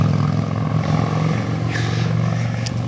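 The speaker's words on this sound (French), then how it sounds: "Il y a beaucoup plus de motards que de voitures." Steady traffic on a French roadside, many motorcycles and some cars rolling past close by, a continuous low engine drone with a faint rising whine midway, no talking.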